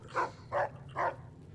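A dog in the video game Fallout: New Vegas barks three times in a row, short and evenly spaced, at moderate loudness with no talking.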